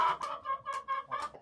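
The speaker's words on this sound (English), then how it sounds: "29 chickens out there now" Backyard hens cluck close by in a quick series of short, throaty calls, three or four bursts in little more than a second, with no voices present.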